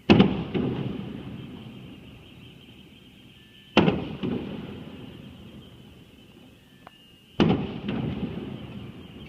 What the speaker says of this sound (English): I get to watch fireworks in the air-conditioned comfort of my apartment